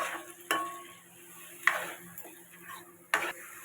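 Cumin and chili paste fry in oil in a pan for a tilapia masala curry, a low sizzle broken by three sharp spoon scrapes and taps as it is stirred, with no talking.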